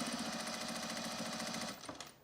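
A sewing machine stitching men's jeans, its needle hammering in a fast, even rapid-fire rhythm up close, then slowing and stopping with a couple of mechanical clunks as the bobbin thread runs out.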